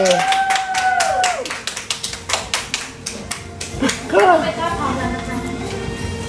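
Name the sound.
clapping hands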